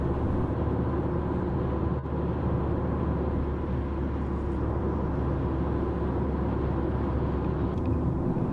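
A car with an engine rumbling steadily inside the cabin joins a UK motorway, accelerating under a continuous broadband road and wind roar that stays even and loud throughout.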